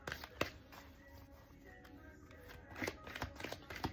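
Tarot cards are shuffled in quiet, crisp bursts of riffling and tapping, close and soft, with a short pause in the middle.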